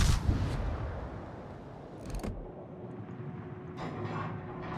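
Naval guns fire in World of Warships, giving a few heavy, booming salvo thuds with low rumbling between them and a sharper crack partway through, all without talk.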